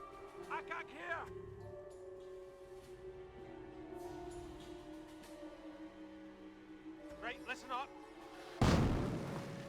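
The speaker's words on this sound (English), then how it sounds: "Barraging the Bofors replacement now" Artillery barrage in the Company of Heroes 1 strategy game, shelling a British Bofors position, with a steady battlefield hum and chirping effects before one loud, close blast erupts near the end and rumbles on.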